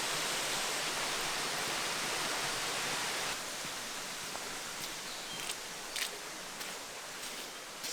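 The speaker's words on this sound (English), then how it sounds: "there in the back is the waterfall." A waterfall on São Miguel in the Azores sends out a steady broadband rush of falling water, with a few faint rustles and brief knocks over the constant roar.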